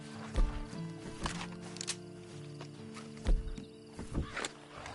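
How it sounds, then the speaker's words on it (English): A horse in the game Uncharted gives a few snorts and short whinnying calls amid hoof thumps and other game sounds, moderately close but at low level. "Then you better get on this horse."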